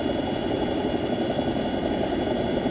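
Helicopter in the X-Plane 11 flight simulator, a steady, droning engine and rotor hum holding at an even level throughout, with no talking.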